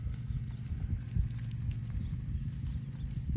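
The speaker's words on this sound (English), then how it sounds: "Now the bay horse outwalks the buckskin by about 2 to 1." Horse hooves clip-clop in a steady walking rhythm, a bay horse and a buckskin moving together during a riding lesson, moderately close.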